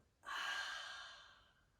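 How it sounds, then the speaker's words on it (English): A long, steady exhale during a yoga mat practice, starting abruptly and slowly fading over about a second and a half, close and alone with no talk. "Take one last breath here. All the way out."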